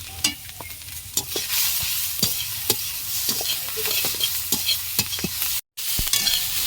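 Vegetables and spices frying with salt and turmeric for a small-fish and taro-leaf dish, a loud close sizzle broken by frequent sharp spatula scrapes and taps in an irregular rhythm, with one brief dropout near the end.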